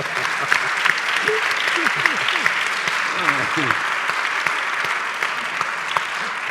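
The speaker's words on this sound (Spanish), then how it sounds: "Petra Martínez, un aplauso." A theatre audience applauds actress Petra Martínez with dense, sustained clapping filling the room, while a few voices sound briefly over the applause.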